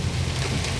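Heavy rain beats steadily on a car while it is driven around Metairie in a thunderstorm, a dense, continuous patter with low rumbling underneath.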